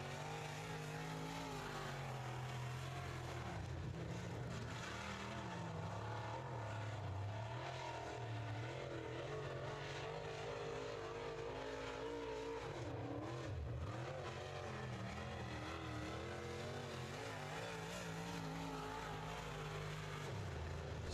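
UMP modified race car on a qualifying lap at Cedar Ridge Speedway, a steady loud engine drone that rises and falls with revving throughout, no talk.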